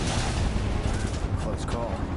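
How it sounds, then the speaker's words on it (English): Battle gunfire from the video game Final Fantasy VII Remake, a dense, continuous rattle of shots with voices shouting over it throughout. "Open fire! Shoot to kill!"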